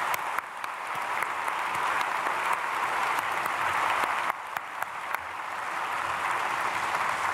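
A church congregation at a Sunday worship service claps steadily and fairly loudly throughout, a dense even applause with no talk over it.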